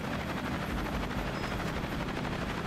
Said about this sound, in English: That's a very nice chopper.